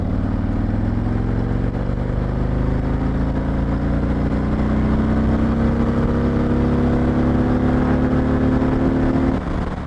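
A motorcycle accelerates through a corner, its engine note loud and continuous with pitch climbing steadily throughout, then easing off right at the end.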